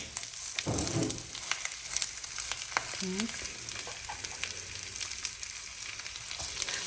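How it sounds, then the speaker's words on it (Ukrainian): Steady sizzling of schnitzels frying in a pan, a constant crackly hiss with a few small pops and clinks, no voices. "Це я смажу, бо соломія дуже погано їсть якийсь білок"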